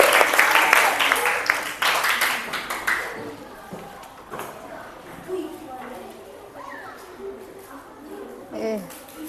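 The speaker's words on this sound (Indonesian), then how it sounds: "Tepuk tangan untuk kita semua" A classroom of students claps together for a few seconds, then the applause fades into chatter and a teacher talking.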